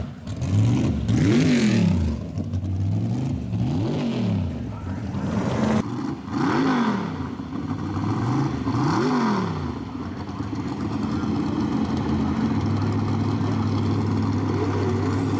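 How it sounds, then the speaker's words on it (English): A nitrous Camaro at a no prep drag race revs hard in repeated rising and falling blips, loud and close, then settles into a steady rumbling idle. "we've got some nitrous Camaro action"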